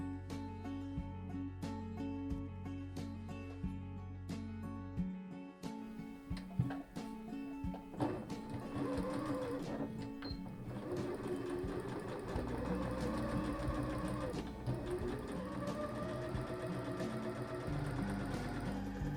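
A sewing machine stitches the sleeve seams of a jacquard jacket. A steady mechanical hum gives way to a faster, busier run of stitching.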